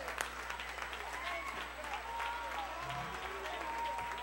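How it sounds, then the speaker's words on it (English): Church congregation at a Sunday service clapping and calling out praise, a steady wash of applause with scattered voices throughout, moderately distant and continuous. "clap your hands and give him a shout of praise."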